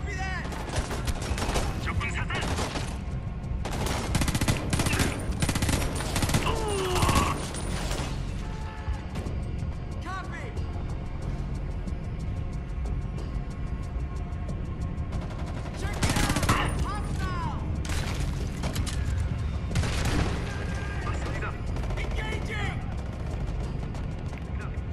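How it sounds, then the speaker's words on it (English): Enemy gunfire in the video game Homefront: The Revolution, with repeated bursts of shots and automatic fire in loud clusters over a constant background of game noise, crashes and mechanical sounds. "they're shooting at me"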